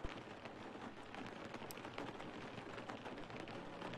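Rain in the Chasing Static video game falls as a faint, steady patter of scattered drops, with no voices heard.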